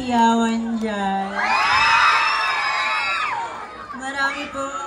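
Shouts and cheers rise from an audience at a costume parade in a loud, sustained burst, with an amplified host's voice talking just before and after the crowd noise.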